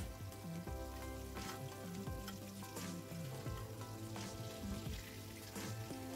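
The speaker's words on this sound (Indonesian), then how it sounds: "di minyak yang sama saya akan goreng tahu sama tempenya" Close, continuous sizzling of tofu and tempeh frying in hot oil in a home kitchen, with bubbling crackle and intermittent stirring or utensil knocks.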